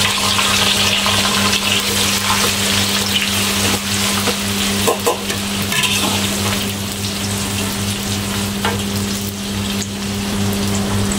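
Chopped onions and garlic sizzling in a little cooking oil for sambal goreng. It is a loud, continuous, even hiss with a steady background hum and no talking.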